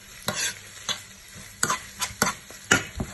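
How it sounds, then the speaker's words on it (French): Onion with honey being stirred in a hot pan: a quiet sizzle under repeated scraping strokes of a utensil, about seven close, irregular scrapes across three seconds. "Continue à bien le mélanger."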